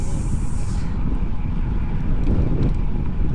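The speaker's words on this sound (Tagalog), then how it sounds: "Sobrang lakas ng hangin." Strong wind roars and buffets the microphone during a bike ride, a loud continuous rumbling gust that briefly shrieks at the start, with no clear speech.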